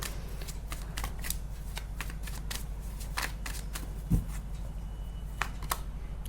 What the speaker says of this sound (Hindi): एक और ओवरऑल कार्ड निकालते हैं।